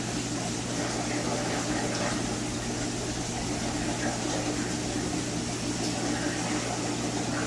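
Vertex RO/DI water filter unit running a back flush, a steady broadband rush of flowing water with a constant low hum, even and unbroken throughout.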